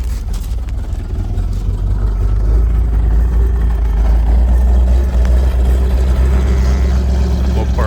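A 1971 Dodge Challenger convertible's 340 V8 with its original Thermoquad carburetor rumbles steadily at idle, a deep low throb held close and loud throughout with faint background noise.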